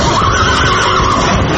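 A horse neighs loudly and close, a long wavering whinny that holds strongly throughout, with no talking over it.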